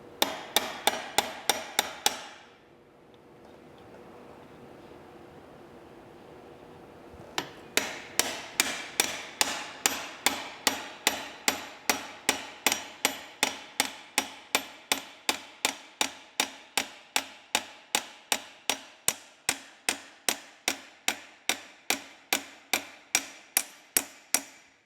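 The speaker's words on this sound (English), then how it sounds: "we have our brand new roll pin, which we're gonna drive into that guy." A new roll pin is hammered into a T56 transmission shift lever with dozens of sharp metallic strikes. A short burst of blows is followed by a pause, then a long, steady run of evenly spaced hits, close and loud.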